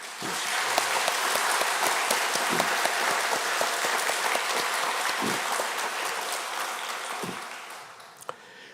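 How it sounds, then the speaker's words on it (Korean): A church congregation at a worship service bursts into sustained applause, a loud dense wash of many hands that slowly fades toward the end, with a few sharper individual claps standing out. "다시 한 번 더 박수로"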